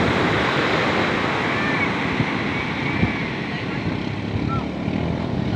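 Fishing boat engines head out from the beach through large waves, a steady droning roar blended with crashing surf and wind buffeting the microphone.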